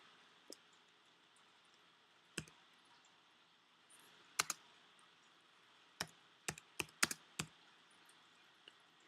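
Keys on a Mac computer keyboard are typed in short, sparse bursts: a few isolated clicks, then a quick cluster of taps near the end, fairly close and crisp over a quiet room with no talk.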